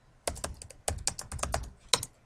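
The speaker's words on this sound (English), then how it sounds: "So I'm going to type" Keystrokes on a computer keyboard come in short bursts of quick clicks, close and fairly quiet, with brief pauses between clusters.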